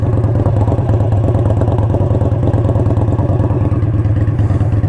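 An Indian Scout motorcycle with a Hacker Mayhem 2-into-1 exhaust idles up close, giving a loud, steady, deep rumble with a fast, even throb that runs unbroken from start to finish.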